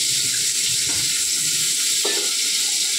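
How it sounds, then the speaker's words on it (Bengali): Eggplant slices frying in hot oil in a pan, a loud continuous close-up sizzle with a couple of brief sharper crackles as pieces shift, no voices. "এবার বেগুনগুলো একটু ভেজে নেব"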